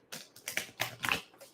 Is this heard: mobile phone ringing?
no